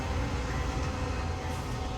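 A train rumbles past in the background as a steady, dense, loud roar that fills the whole stretch without change.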